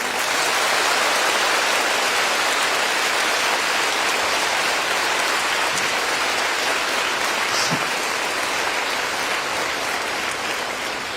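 Sustained applause from a large audience at a Tamil speech event, a thick, continuous wash of clapping that holds steady throughout and tapers only slightly near the end.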